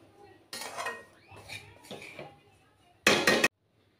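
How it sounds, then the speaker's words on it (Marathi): Grated coconut being stirred and lightly heated in a pan, with a metal utensil scraping and clinking against the pan in several separate bursts, ending in a sharp rattle. "मी थोडंसं गरम करून घेणार आहे खोबऱ्याला। हलकं हलकं गरम करून घ्यायचं आहे आपल्याला।"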